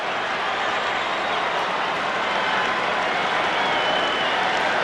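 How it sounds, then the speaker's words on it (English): Baseball crowd at SkyDome during Game 6 of the 1993 World Series, Phillies at Blue Jays, growing impatient: a steady, dense roar of murmuring and scattered clapping filling the stadium with no break. "the crowd is growing impatient with Cox and Gaston"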